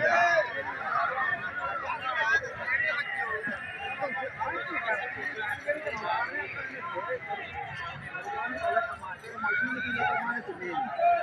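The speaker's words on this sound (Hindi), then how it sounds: "वो पहाड़ी घोड़े जे खड़े ने।" A horse neighs repeatedly amid a busy crowd of voices talking over one another outdoors at a horse market.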